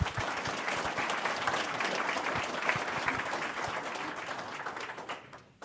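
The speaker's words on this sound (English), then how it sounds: "Let's give him a big hand of applause." Steady, dense applause from a sizable audience, continuous for several seconds before tapering off at the very end.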